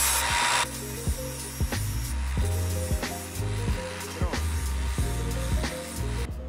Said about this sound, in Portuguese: Aqui é só passar a esmerilhadeira para ficar reto.